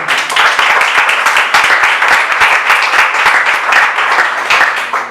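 A church congregation claps for the Lord during a Spanish-language sermon, loud close-up applause with distinct individual hand claps standing out in an uneven, lively rhythm.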